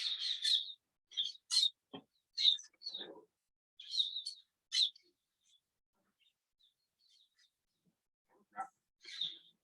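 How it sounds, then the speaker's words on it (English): Saffron toucanet calls played back from a video, a series of sharp, high chirping bursts in uneven clusters with short gaps, then a quieter stretch before two more calls near the end. "It's called a saffron toucanet."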